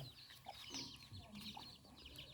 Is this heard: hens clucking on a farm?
yes